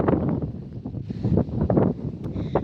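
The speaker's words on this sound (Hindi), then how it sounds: "दोस्तों काफ़ी प्यारी हवा चल रही है।" Wind blowing across village hill fields, a steady gusty roar buffeting the microphone, rising and falling throughout with a couple of faint high rustles.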